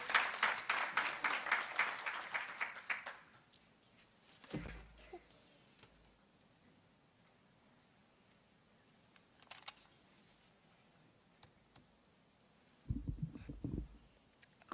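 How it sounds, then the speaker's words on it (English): Conference audience applause opens loud and crisp, then fades out after about three seconds into a quiet room, with a few brief knocks and shuffles later. "A round of applause,"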